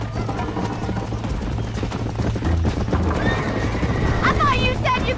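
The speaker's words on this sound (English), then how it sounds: "I think you chose the wrong horse, Miss McFarland." Horses in the Red Dead Redemption video game, racing: hooves gallop continuously with clip-clop beats, and loud neighs and whinnies rise near the end, over steady background game audio.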